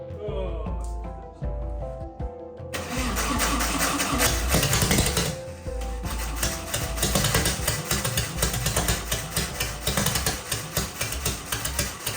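A 300 hp turbocharged engine in a 1980s supercar sputters, then roars to life and runs loudly with a rough, pulsing idle and revving, close by.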